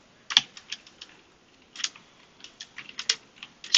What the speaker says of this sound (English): Spam spacebar on 1